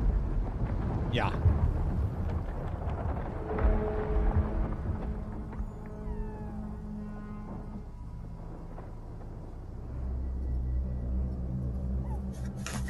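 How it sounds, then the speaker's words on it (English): Obelisk activation in the video game Illuvium: deep thunder-like rumbling with crackling lightning and grinding, crushing rock that swells and fades over a sustained low roar. "Definitely some lightning cracking,"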